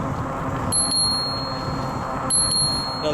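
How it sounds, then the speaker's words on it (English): Stock chime on an Addmotor M-850 e-bike rings twice in quick double dings, each pair bright and close, over steady outdoor background noise. "the chime that comes with the M-850 sounds like this"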